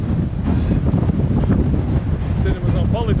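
Strong gusting wind buffeting the microphone on the Furka Pass in the Swiss Alps, a loud rumbling roar that fills the whole clip, with faint whistling tones near the end.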